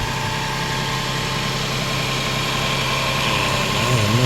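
A 2002 Lexus RX300 engine idles steadily up close, a continuous loud hum and vibration after an oil pan gasket repair, running alone with no talk.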